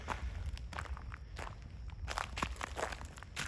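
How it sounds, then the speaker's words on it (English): Footsteps crunch and scuff across debris inside an abandoned train factory, a steady walking rhythm of fairly close steps with no talk over them. "I just heard some footsteps"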